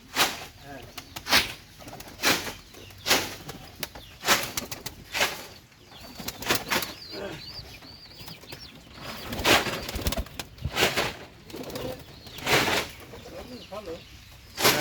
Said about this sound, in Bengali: পাকিস্তানি কবুতর মূলত খাসার ভিতরে ডিম বাচ্চা করায়